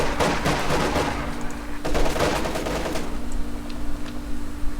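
Rapid gunfire in the World War II strategy game Company of Heroes 2 during the Ardennes Assault campaign, dense bursts of machine-gun and rifle shots over a steady background hum, loud and continuous throughout.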